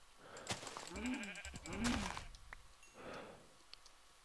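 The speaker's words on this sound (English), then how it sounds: "That's just another sheep." Sheep bleat in Minecraft, two quavering bleats in quick succession, fairly close, followed by soft game sounds and a fainter call, with no talking during it.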